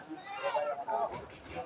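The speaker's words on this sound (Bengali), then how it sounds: "এই সেই হাট ছাগলের, এই পাশেও আছে দেউকা।" Goats bleating at a livestock market in Habiganj where local goats are sold, the calls mixing with someone talking nearby and general crowd noise.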